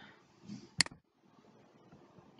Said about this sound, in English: Just double click here.